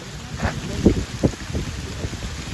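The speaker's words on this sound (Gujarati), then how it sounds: "જોરદાર પવન અરે વરસાદ" Strong wind gusts buffet the microphone in uneven, rumbling bursts during rain, with a steady outdoor hiss underneath.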